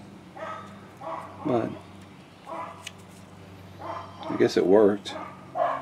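Several barks and yips from dogs around an RV, mid-distance and intermittent, mixed in with someone talking.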